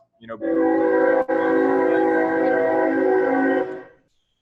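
A train horn sounds in one long sustained blast of about three seconds, loud and near, with a short break in the middle before it fades out.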